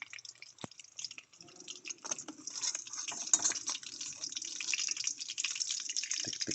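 Tilapia fry in hot oil, giving faint, irregular crackling and spattering pops with soft sizzle, quiet and close.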